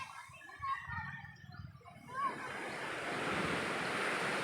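Sea surf washing onto a beach, a steady broadband wash building after a quieter start with a few smaller swells, wind noise on the microphone and faint talk early on.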